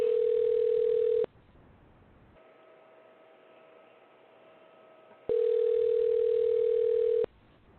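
Telephone tone heard while calling a number: a steady, loud single-pitch tone for about a second, a quieter fainter tone for a few seconds, then the loud tone returns for two seconds.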